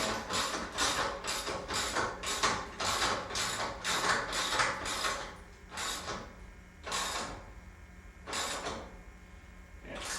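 A bolt is snugged back into place during a studio belt replacement, giving a dense series of rapid ratchet clicks followed by a few slower, separate bursts, close and fairly quiet.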